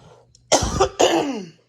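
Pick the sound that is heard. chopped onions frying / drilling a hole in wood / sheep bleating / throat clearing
throat clearing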